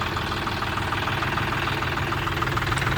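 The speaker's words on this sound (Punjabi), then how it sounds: "ਆਵਾਜ਼ ਸੁਣੋ ਟਰੈਕਟਰ ਵੀ ਕਾ ਕਹਿੰਦੀ ਹੈ" A tractor engine idles steadily nearby with a constant low, knocking throb and no voices over it.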